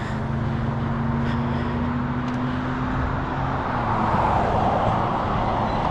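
A car drives past on a street during a walk, a loud steady roar of road and engine noise with a tonal hum that rises and falls across the pass, under general traffic noise.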